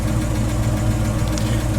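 A 1967 Ford Mustang coupe idles steadily up close, its low rumble carrying a faint ticking from an exhaust leak, with no talk over it.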